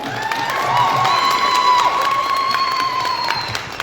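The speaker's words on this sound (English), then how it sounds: "A big round of applause to yourself." A crowd in Lesotho cheers and whoops alongside applause, with loud shouts and clapping filling a short, energetic burst from start to finish.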